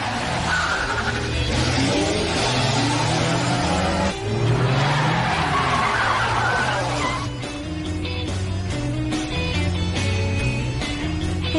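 A car drives fast and skids, tires squealing over a roaring engine, with a steady low hum underneath and a brief dip midway before the motor noise carries on.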